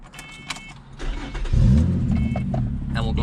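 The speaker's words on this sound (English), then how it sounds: "Start this car up," A 2010 Lotus Evora's engine cranks and fires up about halfway through, jumping into a loud, close, rumbling idle that holds steady, following a few faint beeps and clicks from inside the car.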